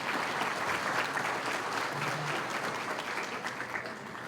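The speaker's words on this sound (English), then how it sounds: "Can we give them all a round of applause?" Audience at a chamber of commerce breakfast meeting applauding sponsors, a full, sustained wash of many hands clapping that holds steady and eases slightly toward the end.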